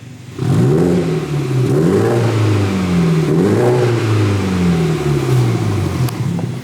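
A BMW 125i with an upgraded exhaust and downpipes revs hard, its note climbing and falling through several loud, close blips over a steady idle, with no talk.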